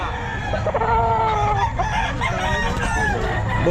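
A Macray gamefowl rooster at the Bocaue pet market crows in drawn-out harmonic calls mixed with clucks, close and clear over a busy market background.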